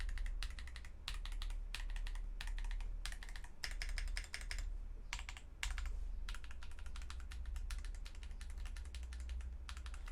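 Rapid clacking keystrokes on a Cidoo V65 V2 mechanical keyboard with tactile switches, typed in quick bursts separated by brief pauses, close and crisp with no voices.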